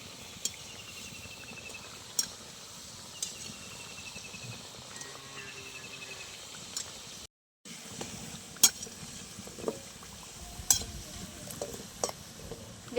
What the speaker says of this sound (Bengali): খুব ভালো করে লাল লাল করে ভেজে নেব।